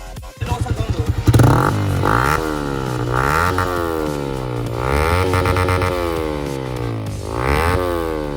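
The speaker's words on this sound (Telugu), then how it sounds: "ఇంకా బైక్ ఫస్ట్ స్టార్ట్ చేస్తున్నాం" A Yamaha MT-15 fitted with an Akrapovic R1M exhaust and dB killer cranks and fires up, then gives several loud, sharp throttle blips that rise and fall over a rumbling idle, close by.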